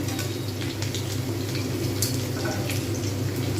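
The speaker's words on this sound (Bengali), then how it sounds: "আমি এই সময় চিকেন পকোড়া ভাজতে শুরু করেছি" Chicken pakoras deep frying in hot oil, a steady dense crackle and fine sizzle running continuously at close range, with no voices.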